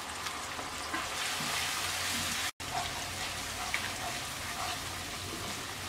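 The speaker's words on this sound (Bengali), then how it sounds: "এবার আমরা মশলাটাকে কিছুক্ষণ কষিয়ে নেব" Ground chili, coriander and turmeric sizzle in hot oil in a pan, a steady dense crackling hiss that runs continuously with one brief dropout partway through.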